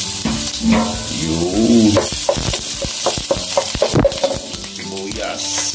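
Garlic sautés in a pan with a bright frying sizzle under intermittent stirring knocks and scrapes, close by, while a person talks briefly over it.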